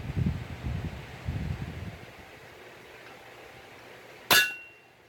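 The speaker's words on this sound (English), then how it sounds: "Now I'm going to give it a bop with the hammer over the hot cut." A single sharp hammer blow rings out on a hot cut at a forge while making pick-up tongs, a bright metallic clang with a short decaying ring, following a few seconds of low rumbling handling noise.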